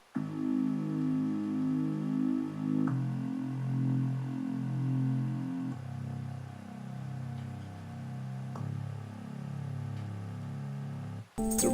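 A sustained synth bass from the GMS synthesizer holds steady, buzzy tones that step to a new pitch every few seconds. It plays alone and fairly loud, with no talk.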